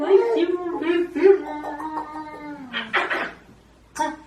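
Pet cat giving drawn-out, wavering meows and a caterwauling cry, close and loud, with a few short breathy sounds and pauses between calls.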